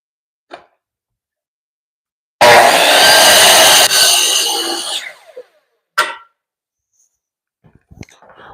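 A power saw cuts through a crooked piece of baseboard trim, a loud close burst of about two and a half seconds that winds down, with a few clicks and knocks before and after.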